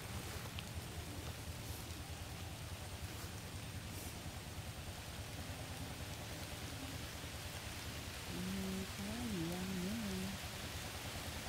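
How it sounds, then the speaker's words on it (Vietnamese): Steady rain falls in a continuous, even hiss that fills the whole stretch, with a faint tonal whine rising briefly near the end. "Mưa."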